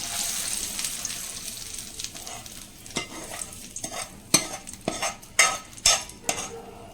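Oil sizzles steadily in a pan as frying begins for a restaurant-style lunch dish, with the soft hiss broken by sharp clinks and scrapes of a utensil stirring, growing busier toward the end.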